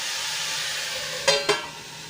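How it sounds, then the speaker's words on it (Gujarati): Radish greens sauté in hot oil in a pan, making a steady close sizzling hiss broken by two quick stirring scrapes. "ભાજી તેલમાં સરસ રીતે મિક્સ થઈ ગઈ છે તો એને આપણે થોડીવાર ઢાંકીને 2 થી 3 મિનિટ સુધી સંતળાવા દઈશું"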